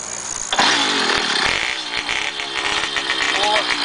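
A motorized pedal chopper motorcycle that runs rich and starts hard is kicked over with the rear wheel raised, and its small engine catches and revs loudly and steadily. Someone talks over the engine.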